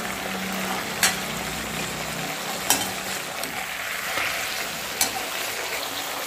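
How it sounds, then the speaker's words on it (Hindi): Chicken pieces frying in a pan, a continuous close sizzling hiss with a few sharp clinks of a utensil against the pan at intervals, no talk. "वन बाई वन करके चिकन के पीसेस ऐड कर देंगे। वन बाई वन करके इसमें वन बाई पीसेस ऐड कर देंगे। इसको फिर अच्छे से फ्राई करेंगे।"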